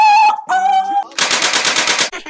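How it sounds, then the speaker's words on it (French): A machine gun sound effect is played as a cue on a French TV game show: a couple of short tonal blips, then a rapid, loud burst of about ten evenly spaced shots, and a brief tail. "Vite, Mitraillette, mitraillette."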